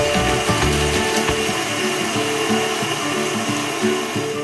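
Electric mixer whisking egg whites into meringue for macarons, a loud, continuous motor whir with a rhythmic grinding pulse lasting several seconds, close up and with no voices.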